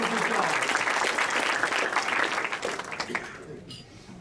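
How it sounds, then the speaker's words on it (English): A banquet audience at a Rotary Club senior-of-the-year dinner breaks into loud, sustained applause that tapers off toward the end, with a few voices beneath it. "we want to give her a round of applause"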